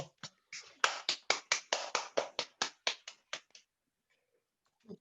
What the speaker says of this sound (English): if we can have a round of applause for